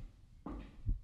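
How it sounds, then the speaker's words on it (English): A heartbeat sound effect in a horror video game, two dull low thumps in quick succession, close and fairly soft against a quiet background. "Why is my heart beating?"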